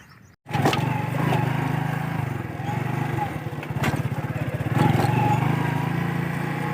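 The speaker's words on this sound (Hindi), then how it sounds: "मोटरसाइकिल जो है इधर खड़ा हुआ है, इसको किक लगाते हैं और घर तरफ निकलते हैं।" A parked motorcycle is kick-started after a brief thump and settles into a loud, close single-cylinder putter, revving and chugging steadily as it rides off, engine note rising and falling over several seconds.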